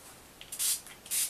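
A spray bottle misting water onto an acrylic landscape painting: two quick, close hissing spritzes, each short and bright, with a faint puff before the first.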